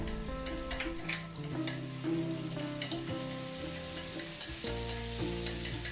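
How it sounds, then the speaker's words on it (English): Minced garlic stir-frying in hot vegetable oil in a pan for Chinese lettuce, a steady close sizzle and crackle under continuous background music. "Then we put the garlic and stir fry them."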